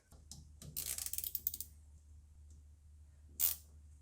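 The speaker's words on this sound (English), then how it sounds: "Now let's tighten the bolts." Tightening bolts by hand on a diesel fuel filter housing of a B6 Volkswagen Passat 1.6 TDI, heard as a quick run of close, light metallic clicks and ratcheting ticks over about a second, then quiet and one brief scrape.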